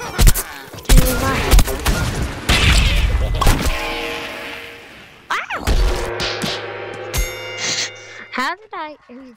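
Gunfire in the video game Plants vs Zombies, a dense rapid burst of loud, close shots and thuds followed by scattered impacts and electronic effect tones, with a voice talking over it.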